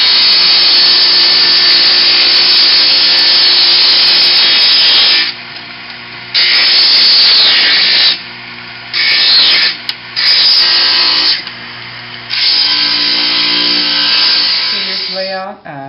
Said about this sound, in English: We'll take that to the grinder and we're going to grind it off.